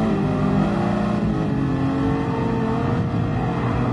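A race car engine in Gran Turismo Sport, with modern Ferraris racing, drones loudly and continuously with a harmonic whine, its revs shifting slightly as the throttle is eased and then reapplied, close and alone.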